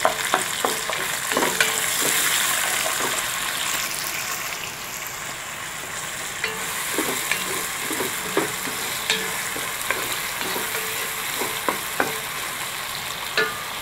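Bacon sizzles in a pan with white onions and a constant frying hiss, broken by repeated scraping and clattering as a utensil stirs it.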